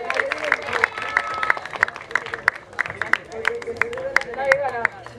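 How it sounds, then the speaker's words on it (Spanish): Studio audience at a televised dance battle final clapping and cheering, with dense applause mixed with crowd noise and brief voices over it. "Fuerte aplauso para las chicas"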